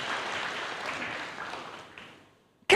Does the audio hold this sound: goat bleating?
no